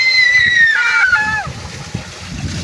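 Children splash water around in a shared bath or tub, with choppy sloshing and splatter close by, overlapped by high excited voices and an adult talking.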